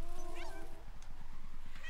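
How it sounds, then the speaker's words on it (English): A cat meows in the game Luigi's Mansion, one short rising call at the start followed by a faint second meow, over a steady pulsing game soundtrack. "And the cat is right beside me."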